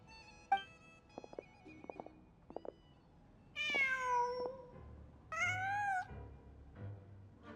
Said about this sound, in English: Just a cat.